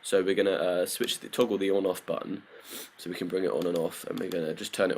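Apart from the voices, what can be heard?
No everyday noises stand out.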